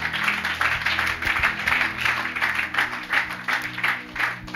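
Church congregation applauding in steady, continuous clapping that fills the room at moderate loudness, with low murmur beneath and no clear speech.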